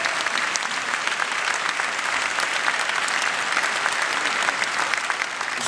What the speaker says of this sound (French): On peut l'applaudir très davantage.